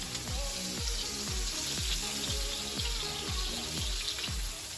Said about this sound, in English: I'll cook it to rare and then baste.